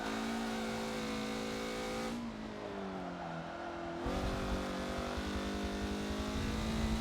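A race car engine in the Forza video game on the Suzuka West track, droning loudly in high gear, dropping in pitch as the throttle lifts, then climbing again as it accelerates out of a corner.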